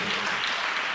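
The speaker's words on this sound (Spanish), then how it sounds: "Den un aplauso a alguien esta noche" Church congregation claps during a Spanish-language sermon, a steady, dense wash of many hands filling a brief moment without pause.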